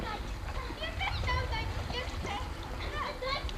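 Someone swimming splashes water at a grandfather's home, a steady churning wash that runs the whole time, with children's voices talking over it.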